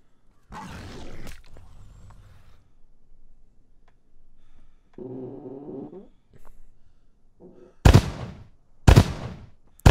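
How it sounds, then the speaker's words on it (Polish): A few sharp, loud bangs near the end, distraction fireworks bursting in the video game In Silence, following quieter rumbling and a short tonal passage. "Fajerwerki rozpraszające"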